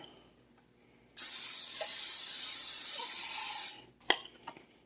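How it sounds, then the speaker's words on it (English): A single long hiss of olive oil cooking spray into a hot skillet lasting a few seconds, close and loud, followed by a couple of quick clanks and rustles. "I'm going to put some olive oil spray in here."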